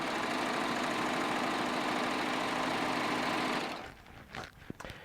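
Baby Lock Triumph sewing machine running at half speed with a steady, fast mechanical whir and buzz for over three seconds, close and even, then stopping abruptly, leaving faint scattered clicks and handling noises.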